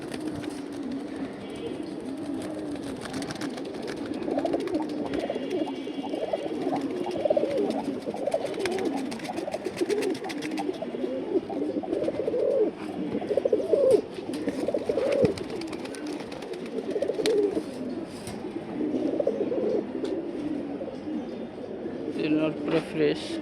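A flock of pigeons coos steadily in low, throaty murmurs nearby, with chirps and rustling mixed in, continuing throughout.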